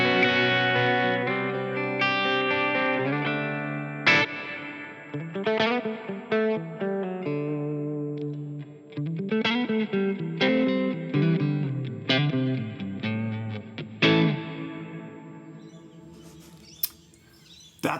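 Guitar notes through a Line 6 HX Stomp ring out one after another, each washed in a long, spacious reverb tail that lingers and blends into the next.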